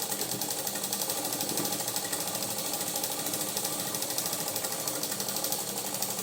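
A sewing machine stitching a book cover, its steady rapid mechanical chatter running continuously and fairly loud throughout.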